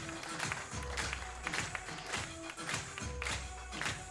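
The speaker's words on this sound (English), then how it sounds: "Lively crowd here with the music." A lively crowd at a women's professional bowling tournament, the Rochester Open, with rhythmic clapping and thumping music beats filling a large hall, steady and moderately loud throughout.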